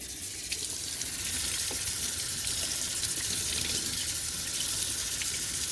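Water gushes and splashes steadily onto a ceramic bar coaster in a spill test, a loud, close, continuous wash of sound with no talking.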